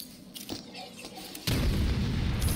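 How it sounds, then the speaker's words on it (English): A grenade explodes in the Batman: Arkham City video game, a sudden loud boom that cuts in partway through and leaves a sustained roaring rumble. "Grenade!"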